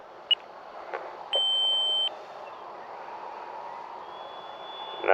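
Beeps from an RC transmitter timer counting down during a flight of a Tower Hobbies Edge 540 plane: a short chirp, then a sustained tone lasting under a second, over steady outdoor background noise.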